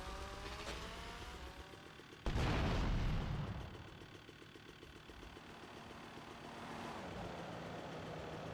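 A sudden loud burst of an explosion in GTA Vice City Remastered erupts over a steady engine drone, then fades back into the continuous mechanical hum.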